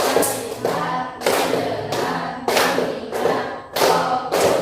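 Schoolchildren clap in unison during a counted classroom clap game, sharp group claps falling in a steady repeating pattern of quick bursts, close and loud, with almost no talking.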